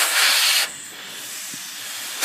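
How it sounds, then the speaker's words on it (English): An air compressor that is running low releases a loud burst of hissing compressed air, then the blast drops to a softer, steady hiss. "Compressor is running out of air,"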